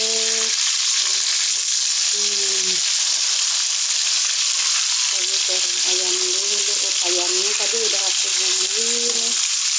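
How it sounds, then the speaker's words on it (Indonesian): Steady, loud sizzling of raw chicken frying in hot oil, continuous throughout, with faint tonal background sounds underneath. "aku lagi goreng ayam dulu ntar habis goreng ayam baru goreng terong"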